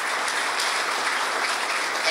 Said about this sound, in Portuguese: Uma salva de palmas para a banda.